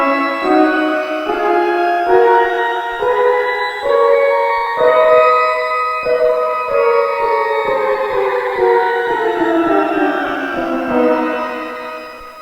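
A series of chords through shimmer reverb pitched up in thirds and octaves, with a bright, octave-heavy shimmering tail, each new chord entering about once a second over a continuous reverberant wash.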